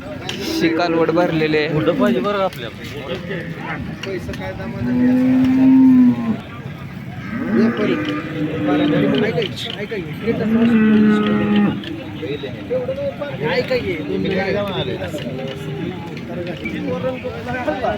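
Several cows moo loudly in long, drawn-out calls amid a busy crowd of talking voices at the Modnimb cattle market.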